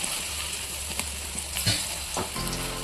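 Lentil paste balls sizzle steadily in hot mustard oil, a constant close crackle with scattered small pops and brief stirring scrapes, no voices.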